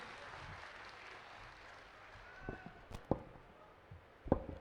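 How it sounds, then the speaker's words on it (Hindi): A crowd applauds at an outdoor political rally in Salasar, heard as a faint, distant wash of clapping with a few sharper knocks toward the end. "मैं चाहूंगा कि एक बार जोरदार तालियां नारायण जी बेनीवाल के लिए बजनी चाहिए"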